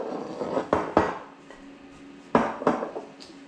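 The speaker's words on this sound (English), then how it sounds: "Now mix it up and set it aside." Dry baking ingredients such as flour, baking soda, baking powder and salt stirred in a bowl, with a few clinks and scrapes of a utensil against the bowl in two short bursts.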